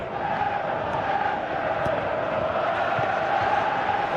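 A stadium crowd in PES 2017 football, a steady broad roar of cheering fans sustained throughout at moderate level.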